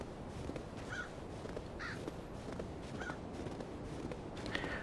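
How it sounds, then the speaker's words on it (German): A crow caws several times in the Winter Survival game, hoarse repeated calls spaced about a second apart over a faint background of soft footsteps and ambient noise. "Das ist ein Vogel, den kann ich leider nicht erledigen."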